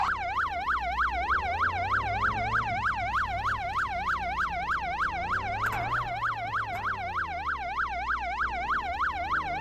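Wailing emergency siren from the Flashing Lights video game, a rapid repeating wail cycling steadily and loud throughout, with a low engine rumble underneath and no talking.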